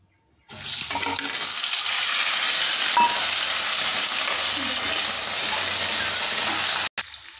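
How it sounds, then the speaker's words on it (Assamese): Potatoes fry in hot oil in a wok, a loud, steady, hissing sizzle that starts abruptly and runs unbroken for several seconds before cutting off briefly at the end. "এতিয়া মই এয়া আলুখিনি ফ্ৰাই কৰি ল'ম।"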